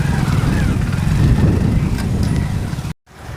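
A vehicle rumbles to a stop and is parked, a steady loud low engine drone that cuts out abruptly near the end, leaving a quieter background.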